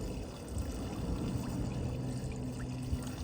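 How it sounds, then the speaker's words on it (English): Antifreeze is poured into an empty fiberglass pool skimmer pipe, a steady soft pouring trickle, fairly quiet and continuous, with no speech. "now we're gonna dump some antifreeze inside that pipe"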